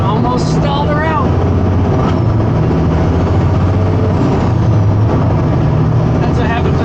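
A heavily loaded fuel truck's diesel engine labors at low pitch after starting off in fourth gear and bogging toward a stall, a loud, uneven rumble with voices talking over it.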